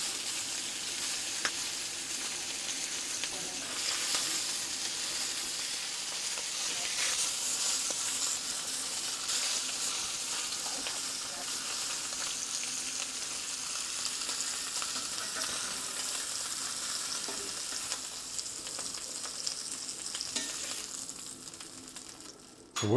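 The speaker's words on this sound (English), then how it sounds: "But they get a good sear in that amount of time." Beef shanks sear in a hot pan with a steady, loud sizzle and hiss that holds continuously for over twenty seconds, crackling evenly throughout with no talk over it.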